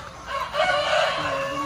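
A Jersey Giant rooster crows loudly and close at a poultry farm near a quarantine pen, one long drawn-out call rising over background clucking from other chickens.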